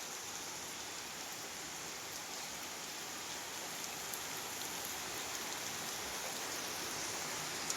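Heavy rain pours down steadily in Kaysone Phomvihane, Laos, in a dense, continuous hiss, with occasional sharper drops standing out against the constant wash.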